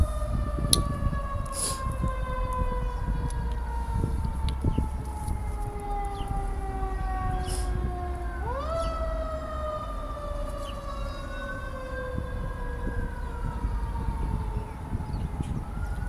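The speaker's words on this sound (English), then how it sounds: "I just hear sirens going by this morning over and over again," Sirens wail past, long falling tones overlapping and sweeping down as the vehicles pass, moderately loud over a rumble of traffic noise.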